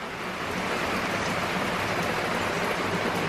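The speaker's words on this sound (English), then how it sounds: "it's now raining" Steady rain falls outdoors beside a barbecue smoker cooking pork ribs, an even unbroken hiss throughout with no voices.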